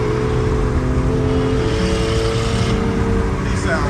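A 2019 Infiniti Q50 Sport twin-turbo car engine drones loud and close during a roll race, with steady engine and road roar, its tone shifting gently as the car holds speed.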